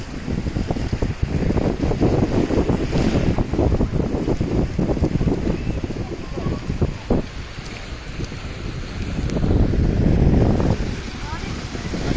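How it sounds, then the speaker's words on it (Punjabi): Sea waves on an Italian beach roar and wash in under heavy wind buffeting the microphone, the surf swelling louder toward the end while people talk nearby. "ਪਾਣੀ ਦੀਆਂ ਲਹਿਰਾਂ ਆ ਰਹੀਆਂ"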